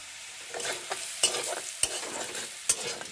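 Pointed gourd curry cooks in a pan with a soft, constant sizzle, broken by three or four sharp scrapes and knocks of a spoon being stirred close by.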